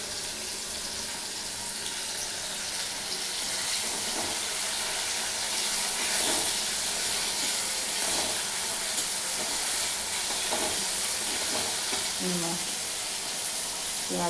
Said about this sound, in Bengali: পেঁয়াজটা মোটামুটি ভালো করে ভাজা হয়ে গেছে।